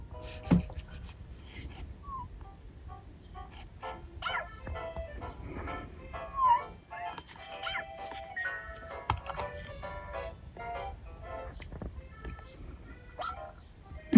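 Cartoon puppy yips, small barks and whimpers from the Nintendogs + Cats game, scattered over tinkly game music at moderate loudness.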